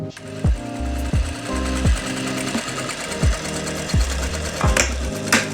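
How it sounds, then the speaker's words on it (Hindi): A sewing machine stitching a zip into pants, running in steady rapid bursts with brief pauses between runs, close and loud, with no talk over it. "और आधा इंच की मैं सिलाई लगा रहा हूँ"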